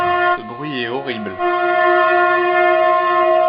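A blocked train sounds its horn to warn a following train, a loud steady multi-tone blast sustained for several seconds, opening with a brief wavering tone over it.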